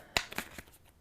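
Tarot cards are shuffled and drawn in a few quick, faint papery snaps and flicks, a sharp riffle followed by two or three softer slaps within a second, with no voice.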